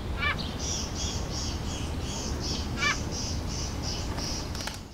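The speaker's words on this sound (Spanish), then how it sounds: "Escuchando el sonido de algunas aves" Birds call in the Pyrenees mountains of Andorra: a regular series of short, clear repeated notes with a few harsher rattling calls, steady and moderately close over a constant background hiss.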